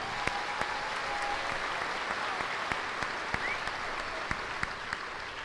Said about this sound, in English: So please join me in a round of applause for the band.